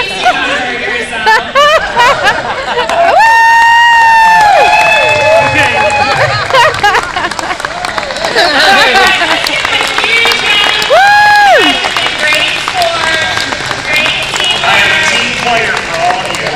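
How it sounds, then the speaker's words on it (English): A crowd at a charity summer event at the NASCAR Hall of Fame cheers and whoops loudly, with rising shouts and whistles over busy chatter and scattered clapping, close to the listener and continuing throughout. "Let's cheer on guys."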